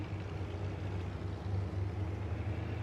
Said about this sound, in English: I can hear it as well. Quite a loud tractor.